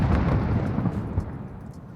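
A grenade goes off on the Khandor Hideout map, a heavy booming blast that rumbles loudly at first and then decays gradually, with a few smaller pops trailing away under the fading roar.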